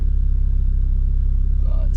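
A Renault Clio engine warms up just after a service, idling as a steady, loud, low rumble close by. A voice briefly starts at the very end.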